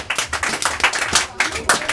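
Live quiz show audience claps for a correct answer, a short burst of several distinct hand claps in loose rhythm, close and moderately loud.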